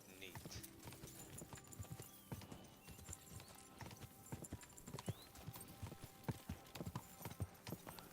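Horse hooves clip-clop in a steady walking rhythm, close and fairly loud, with an occasional whinny and a voice speaking over the steps throughout.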